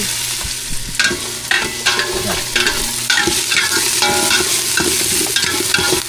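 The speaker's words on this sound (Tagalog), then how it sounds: "Sinama na natin sa gisa yung gabi mga boys para malapot talaga" Taro sizzles and fries in a hot pan while being stirred for beef sinigang, steady loud crackling broken by repeated scraping strokes of a spoon against the pan, with no talking.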